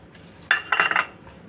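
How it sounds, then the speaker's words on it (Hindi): A spoon mixes grated ginger and garlic with salt, turmeric and Kashmiri chili powder in a bowl. It gives a brief cluster of close metallic clinks and scrapes against the bowl, with no talking. "अदरक और लहसुन का ग्रेटिंग ग्रेट किया, और एक चम्मच जाएगा नमक, और थोड़ी सी हल्दी पाउडर और कश्मीरी लाल मिर्च पाउडर मिक्स करेंगे इन सबको"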